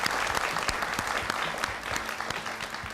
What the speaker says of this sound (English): Let's give our fine winners one more round of applause.